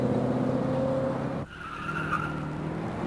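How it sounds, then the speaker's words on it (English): A Ford Lincoln with an AOD-HP automatic transmission on a road test during light-throttle upshifts. Steady engine and road noise drops sharply midway as a gear changes, then settles at a new pitch and carries on. "First, make a series of light throttle upshifts, checking that we have all 4 gears."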